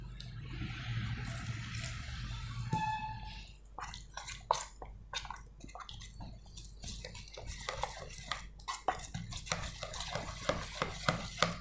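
Spice paste is stirred with a little water for a brinjal fry, a spoon scraping and clicking against a metal bowl in a run of quick wet strokes, close and fairly quiet.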